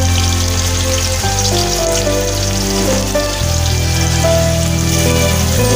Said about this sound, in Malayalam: സവാള ഇട്ടതിന് ശേഷം നല്ലവണ്ണം വിളക്കുക